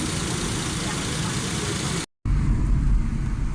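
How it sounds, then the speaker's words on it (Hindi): A Suzuki Khyber car engine runs after carburetor repair, a loud, steady low rumble close by that cuts out briefly and then resumes a little stronger, with faint talk in the background. "अभी गाड़ी की ट्राई करते हैं।"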